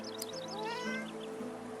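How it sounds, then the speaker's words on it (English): A cat in Divinity Original Sin II gives a single drawn-out, groggy meow, close and clear over a quiet musical background. "The cat looks up at you and gives you a groggy meow in thanks."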